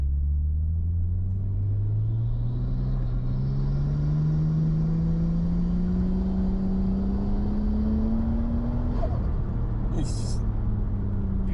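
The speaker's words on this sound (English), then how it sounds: "So you could hear the turbo." A Nissan Skyline R34 sedan's turbo engine at 7 psi boost pulls up through the gears, its low drone rising steadily in pitch, with a faint turbo whistle and a brief high chirp near the end.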